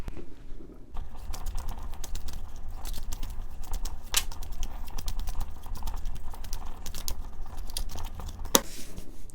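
A deck of tarot cards being cut and handled close by, a dense run of soft rapid clicks and riffling patter with a sharp snap near the end.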